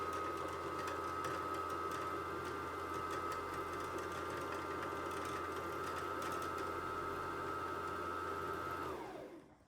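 A Brother J17S/JA1400 sewing machine winds its bobbin with a steady, loud motor whine that holds evenly for about nine seconds, then spins down and stops.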